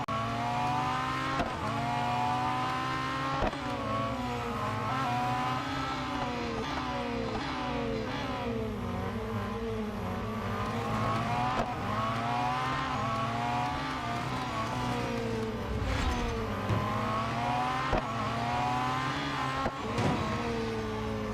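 Race cars lapping Laguna Seca in the Real Racing 3 video game, engines droning and revving continuously with rising and falling pitch as gears shift, loud and steady with no talking.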